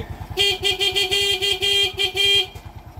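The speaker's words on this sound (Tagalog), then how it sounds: "So, unahin natin itong horn. Ayan yung horn." A Honda XRM 125 motorcycle horn beeps in a steady, slightly wavering tone for about two seconds, loud and close, over a low idling engine rumble.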